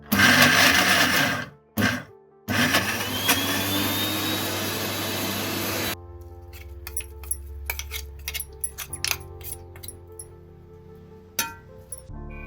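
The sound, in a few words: mixer grinder grinding coconut mixture to powder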